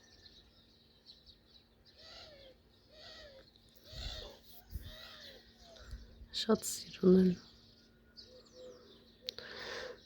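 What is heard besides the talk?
small birds chirping outdoors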